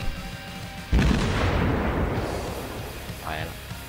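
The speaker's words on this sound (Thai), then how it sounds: "ยิงไม่เข้าแล้วก็คงต้องยิงต่อไปนะครับ" Naval ship guns firing in the World of Warships video game, a single heavy booming salvo that rolls and fades over a few seconds, with a faint whistling tone afterward.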